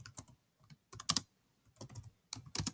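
Close computer keyboard typing while writing C code: quick irregular bursts of clacking keystrokes separated by short pauses, clear and alone.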